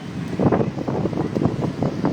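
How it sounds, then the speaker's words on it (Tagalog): Strong wind outdoors in BGC, Taguig near condominium buildings, buffeting the microphone in loud, irregular rumbling gusts across the short stretch, with no voices. "Lakas ng hangin dito."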